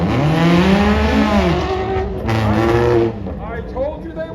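Race cars with modified exhausts, including a Ferrari 430 V8, roaring loudly nearby at a Brands Hatch GT World Challenge car show, engine pitch sweeping up and down through revs before easing off.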